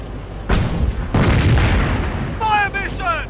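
Two heavy booms blast a German target in Company of Heroes, a World War II strategy game, each followed by rumbling debris, with whistling shells streaking past near the end.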